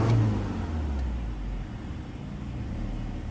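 A BMW engine fitted with an ethanol conversion kit starts and idles roughly, a low uneven rumble with a loud catch at the start, then steady unsettled running close by.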